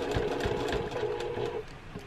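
A sewing machine stitches a cathedral windows cushion cover in a steady, close, humming run of rapid needle strokes, slowing and easing off near the end.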